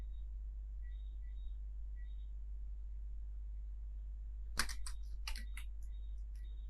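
A burst of quick keystrokes on a computer keyboard as a password is entered, starting after a few seconds of quiet with faint distant beeps. The clicks are close and crisp, with a steady low hum underneath.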